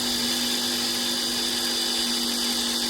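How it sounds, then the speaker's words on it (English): A power tool whines steadily and loudly as it trims an eighth of an inch off a wooden national beehive frame being converted to Langstroth size, a constant high buzz with no pauses. "So I'm just cutting the 1/8 of an inch off the second frame."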